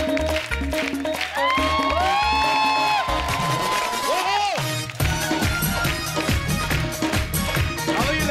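A big studio crowd at a comedy talk show bursts into sustained applause and cheering with whoops to greet acid attack survivors as they walk on. Loud bright music plays over it, and the clapping continues throughout.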